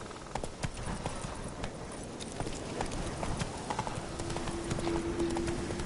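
Roach, a horse in The Witcher 3 video game, gallops with quick rhythmic hoofbeats on the ground, fairly quiet and steady throughout, with a faint tonal hum appearing near the end.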